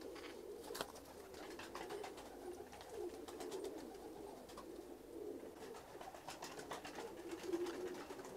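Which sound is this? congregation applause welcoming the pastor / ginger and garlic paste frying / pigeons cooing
pigeons cooing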